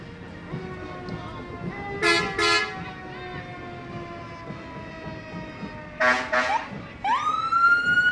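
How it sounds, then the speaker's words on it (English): A fire engine siren wails in rising bursts, with two loud blasts of a deep air horn in between, fairly close and over background noise, at a Flag Day parade in Appleton. "you can't get enough of the fire engine siren or the horn"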